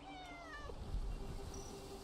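Caged cat meowing in the video game No Man's Sky, a single drawn-out meow with a bending pitch, clear and close against a faint game background.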